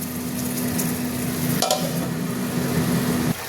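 Fish frying in a pan of thick gravy sizzles steadily and close, with a sharp scrape of stirring partway through and a faint constant hum underneath.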